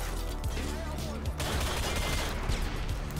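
Rapid gunfire in Modern Warfare 2 on PC, with dense bursts of shots cracking in quick succession close by, mixed with game effects and players talking over the action.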